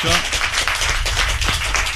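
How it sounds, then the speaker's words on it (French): Audience applauding a German exchange student at a middle school, a dense patter of clapping running steadily for a couple of seconds with voices mixed in underneath. "On peut l'applaudir."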